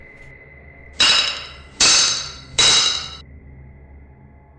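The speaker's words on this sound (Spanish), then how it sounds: "el espectral martillo se escucha cada vez que va a fallecer alguno de los habitantes de la mansión" Three loud, evenly spaced hammer strikes with bright metallic ringing, each decaying slowly, used as a spectral hammer sound effect for a ghost story, over a faint steady hum.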